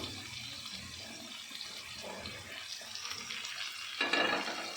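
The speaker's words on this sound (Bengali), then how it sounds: "এবার এর মধ্যেই আমরা কচুর লতিগুলো দিয়ে দেবো" Taro stolons tumble into a pan of frying prawns, a steady low sizzle with watery bubbling that swells into a louder burst of hiss near the end, close up with no voices.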